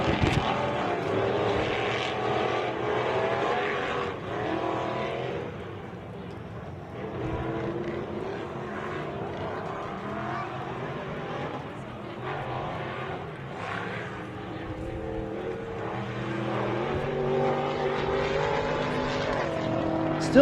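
Off-road race vehicles, 4400B class trucks, racing around a MetalCloak Stampede course, a continuous drone of engines revving and swelling past at a distance through the whole stretch, no voices.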